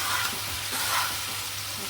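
Mutton sizzles and frys in a pan as it is stirred and browned with ground black pepper, a steady close hiss with soft scraping bursts throughout, no voices.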